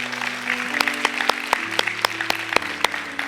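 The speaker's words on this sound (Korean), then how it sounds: "우리 하나님께 감사의 박수를 드리겠습니다." Congregation clapping during a church worship service, a scattered run of claps over sustained organ or keyboard chords, moderately loud.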